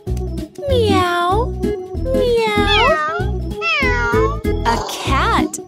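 A cartoon cat meows several times in a row, loud and near, with a steady musical backing underneath.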